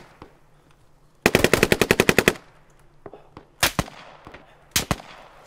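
Machine gun fire in the Squad video game: a long rapid burst of about a dozen shots, then two short separate bursts, fairly close, with no talking over it.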